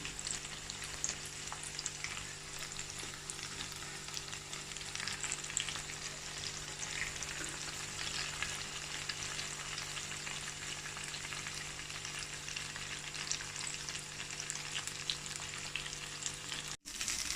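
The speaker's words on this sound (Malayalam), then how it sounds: "വെളിച്ചെണ്ണ ഓയിലൊക്കെ പറ്റിയിട്ട് അങ്ങനെ നമുക്കിത് ഫ്രൈ ചെയ്തെടുക്കാം" Aloo vada pan-fries in coconut oil with a continuous, even sizzle and crackle, steady and close for the whole stretch.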